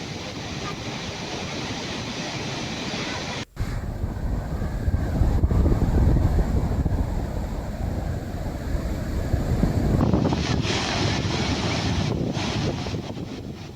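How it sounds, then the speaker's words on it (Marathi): Sahastrakund waterfall on the Painganga river overflows after days of continuous rain, a loud, dense, unbroken roar of rushing water with wind buffeting, briefly cut once and rising again, no voices. "हा धबधबा मागील 2 दिवसांपासून यवतमाळ आणि नांदेड जिल्ह्यात सुरू असलेल्या संततधार पावसामुळे आता ओसंडून वाहू लागला आहे"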